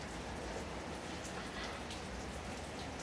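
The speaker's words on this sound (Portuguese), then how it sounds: "hoje tá o dia inteiro chovendo" Rain falls steadily over Curitiba as an even, soft hiss of drops on surfaces, constant and fairly faint throughout, with no voices.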